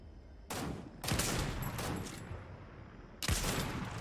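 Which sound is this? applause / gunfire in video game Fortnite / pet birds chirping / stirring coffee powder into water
gunfire in video game Fortnite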